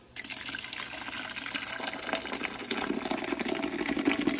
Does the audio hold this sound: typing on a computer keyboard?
no